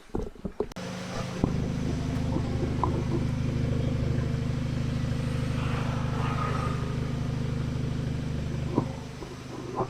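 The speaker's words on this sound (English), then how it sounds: "That is a very nice smooth idle." An Audi S3 or Golf R engine idles smoothly at close range, a steady low hum with even harmonics running unbroken for several seconds after a brief startup clatter, with no talk over it.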